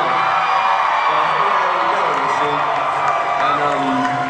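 Audience at a Doctor Who Comic Con panel in 2011, a dense, loud, continuous crowd roar of cheering and whooping that holds steady throughout, with voices mixed into the din.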